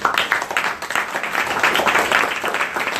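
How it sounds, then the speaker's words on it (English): An audience applauds steadily throughout, a dense wash of claps at moderate volume with no pause. "So let's give him another round of applause."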